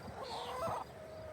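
Chickens in a wooden backyard coop and run give soft, scattered clucks and fowl calls at a moderate distance over a quiet outdoor background.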